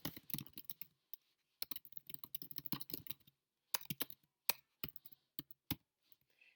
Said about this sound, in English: you can type whatever you need here.